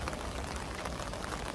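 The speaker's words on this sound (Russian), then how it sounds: "Самое время, когда пошел на улицу дождь." Steady rain falls outdoors on a street in Korea during a downpour, a continuous even hiss of drops hitting surfaces throughout, with no talking.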